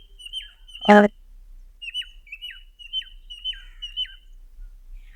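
Pet birds give a series of short, bright chirps and calls at a fairly steady pace in a quiet room, with one loud harsh squawk near the start and a brief spoken word.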